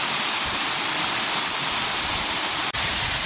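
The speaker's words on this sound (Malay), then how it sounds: "Sekarang aku berada balik di air terjun yang pertama ni" A jungle waterfall at Kanching Eco Forest Park in Rawang, Malaysia roars loud and close as a dense, continuous hiss of falling water, with no voices and one brief click partway through.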